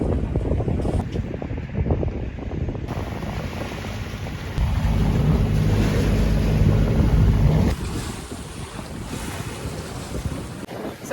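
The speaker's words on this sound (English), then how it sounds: "So we finally got some wind." Strong wind blows across a sailboat at sea, heavy buffeting and roaring over the microphone with water rushing past the hull. It swells louder through the middle and then eases, and nobody speaks.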